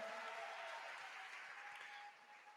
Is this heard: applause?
yes